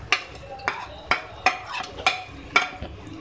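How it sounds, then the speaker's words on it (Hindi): A spoon scrapes and clinks around a pan of frying onion with turmeric and spices, cooking aloo chicken, in about six evenly spaced sharp strokes, close and fairly loud with a faint sizzle underneath. "मिक्स करेंगे।"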